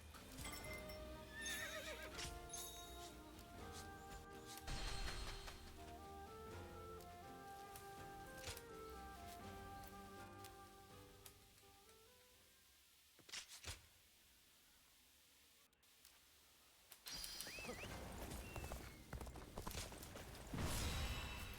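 A horse in the Dynasty Warriors Origins video game, with several whinnies and clip-clopping hooves over game music, a quieter stretch in the middle, then further neighs and hoofbeats.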